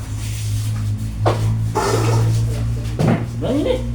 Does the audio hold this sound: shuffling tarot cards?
no